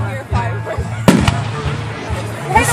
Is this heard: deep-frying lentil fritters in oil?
no